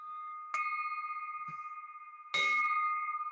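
A small bell is struck twice during an online Rotary club lunch meeting, each ding ringing out clear and sustained with a slow shimmering decay, with a faint soft knock between strikes.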